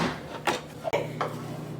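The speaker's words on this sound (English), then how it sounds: "now we're gonna go put this on a tray that I have greased with butter" Thick milk powder barfi is scraped and pushed onto a butter-greased tray, giving short close-up scrapes and dull knocks of utensil on metal, each lasting a moment.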